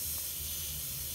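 An airbrush sprays a test burst of Mission Models paint for a 15mm Jagdpanther's road wheels, a steady close airy hiss running unbroken through the whole moment.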